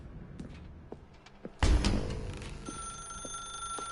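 A telephone rings in a dark room in The Stanley Parable: Ultra Deluxe, a bright repeating electronic ring that starts suddenly after a thump and continues over faint background ambience.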